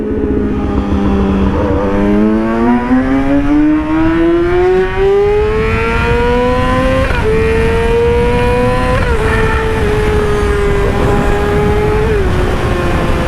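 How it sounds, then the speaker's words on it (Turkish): A motorcycle engine accelerates hard on the road, its close, loud tone climbing steadily through the revs with brief dips at gear changes. "Abi işte bak motoru ben bu yüzden seviyorum. Şu ivmelenmesini bu gidişini deli gibi seviyorum."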